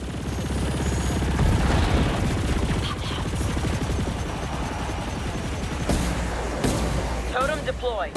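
Sustained gunfire from ship guns in the video game Chorus lays down cover fire, a dense, continuous rattle of shots with occasional heavier booms, loud throughout with game voices mixed in.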